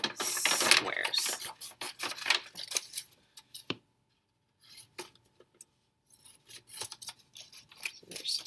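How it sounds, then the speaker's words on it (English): Scissors snip apart squares of material for a texture art project, giving a run of close, crisp cuts that slow into sparse separate snips after a pause, with faint rustling of paper between them. "I'm going to cut apart all of these squares"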